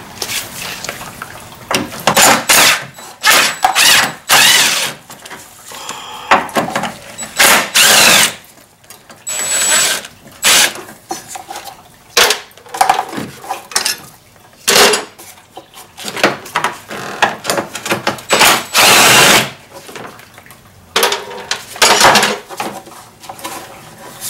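A power tool spins bolts out of the starter on a Lexus RX 330, loud, close whirring bursts that start and stop over and over, with metallic clinks between them.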